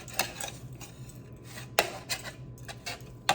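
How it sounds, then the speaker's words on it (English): Knife or pizza cutter slicing through lobster flatbread pizza on a plate, a run of sharp scraping cuts and clinks against the plate, close and fairly loud with brief pauses between strokes. "So I'll just slice these two up."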